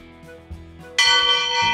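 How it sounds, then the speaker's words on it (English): A loud bell rung by pulling a rope: after a short rustle, one strong bright strike sounds close and clear, with a long ringing tone that carries on to the end. "That's a really loud bell!"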